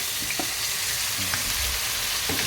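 Tomatoes go into onions and garlic frying in a pan, giving a loud, constant sizzle with bright hiss and occasional soft stirring knocks, and no talking.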